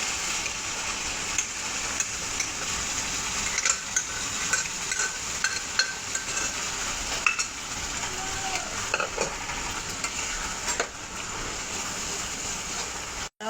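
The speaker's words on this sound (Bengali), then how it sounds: "এবার আমি ডালটা দিয়ে দেবো।" Lentils tipped into hot spiced oil in a pan and stirred, giving a steady close sizzle with scraping and clinking of the spoon throughout, no talk.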